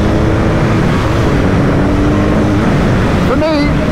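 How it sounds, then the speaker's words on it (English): A BMW heavyweight adventure motorcycle engine drones while riding on tarmac, continuous and loud under heavy wind roar, with a brief rising rev near the end. "it is one of the best sounding bikes on this test"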